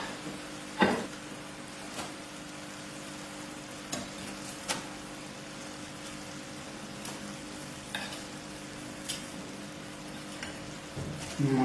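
Chicken fries in a pan with oregano, giving a soft, constant sizzle with scattered scrapes and clacks of stirring. The sound is quiet and close, with no talking.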